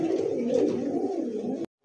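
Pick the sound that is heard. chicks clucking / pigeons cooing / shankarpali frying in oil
pigeons cooing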